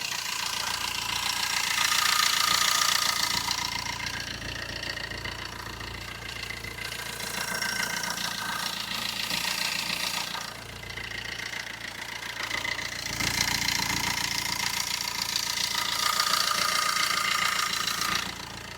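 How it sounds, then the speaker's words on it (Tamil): A 2010 Tata Indigo Manza diesel car engine idles close by with a steady, rough knocking rumble that swells and eases slightly over time. "இப்போ வண்டியோட இன்ஜின் சவுண்டு எப்படி இருக்குன்றதை அந்த மைக்கை பக்கத்தில் வச்சு காட்டுறேன்"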